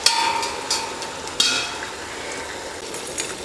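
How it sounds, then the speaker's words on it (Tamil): A quarter kilo of tomatoes sautés in a pan with mint and coriander leaves for country chicken biryani. A steady sizzle runs throughout, broken by a few sharp clinks of a stirring utensil, with no talking. "தக்காளி நல்லா வதங்கட்டும்."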